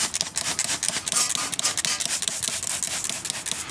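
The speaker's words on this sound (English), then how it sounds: "I'm just gonna go ahead and spray everything just so that when I start working on it, everything's clean." Purple Power degreaser sprayed from a spray bottle over the suspension of a 1992 Honda Civic EG hatchback, a rapid train of close, hissing squirts and spritzes running steadily without talk.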